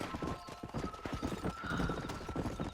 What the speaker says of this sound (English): My first horse race.